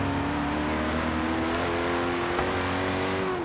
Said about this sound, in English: kind of sounds like any traditional Koenigsegg to me, but a bit dumbed down for some reason